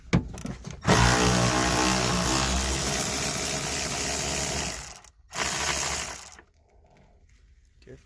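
A ratchet wrench on an extension loosens 13 mm nuts holding a Volvo XC90 park sensor, giving loud, rapid metallic clicking that runs for several seconds, pauses briefly, resumes, then stops.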